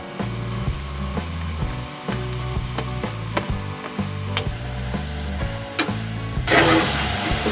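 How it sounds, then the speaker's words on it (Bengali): Potatoes frying in a pan of spiced oil for a Bengali bora curry, a steady close sizzle with intermittent stirring scrapes and clicks, getting louder and brighter toward the end. "মশলা থেকে তেল ছাড়ছে। এবার আমি এতে আলুগুলো তুলে দেব।"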